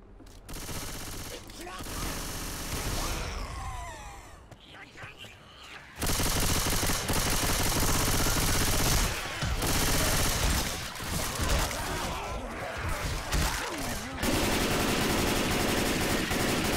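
Gunfire in Left 4 Dead 2: bursts of rapid automatic shots come in loud, dense stretches broken by brief quieter gaps, with voices talking in between.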